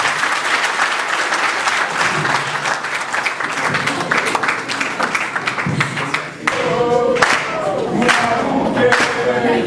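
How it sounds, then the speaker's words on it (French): A university lecture audience applauds a theologian, a loud, full crowd of clapping hands with scattered shouts and cheers, swelling into sharper, more rhythmic claps and voices in the latter half. "est-ce que vous pouvez d'abord applaudir pour le grand théologien Béliman Marozi"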